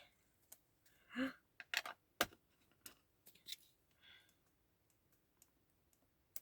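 Scissors snip through paper in short, sharp cuts, a few quiet clicks spaced irregularly, close and faint in a quiet room.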